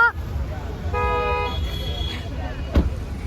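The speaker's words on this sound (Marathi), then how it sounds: "किती ट्राफिक आहे" Busy road traffic with a car horn, heard while a vehicle sits stopped in congestion on a trip to the Ekvira temple palanquin procession. A steady rumble is broken by one sustained honk of about half a second and a brief later blast.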